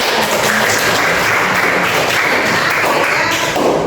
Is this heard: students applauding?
yes